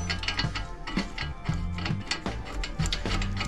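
A ratchet wrench tightening lower ball joint and axle nuts on a 1992–1995 Honda Civic, with rapid clicking pawl bursts in repeated strokes, close and clear with no voices.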